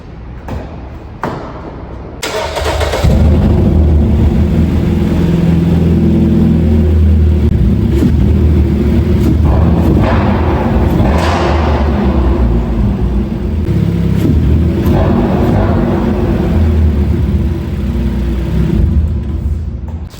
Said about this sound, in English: So we're gonna start it up, see how it sounds with the stock intake